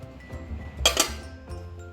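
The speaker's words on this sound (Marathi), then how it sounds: "वरून झाकण पण ठेवायचं" A lid set onto a cooking pot holding covered rice-flour dough for ukadiche modak gives a single bright metallic clink near the middle of an otherwise quiet, short moment.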